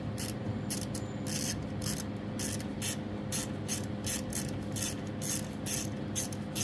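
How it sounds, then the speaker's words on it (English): A ratchet wrench clicks rapidly in repeated bursts while loosening the 3/8 carburetor bolts on a Toro engine, close and quiet, each spurt of ratcheting separated by brief pauses. "then I can just focus on the 3/8 bolts behind the actual carb itself"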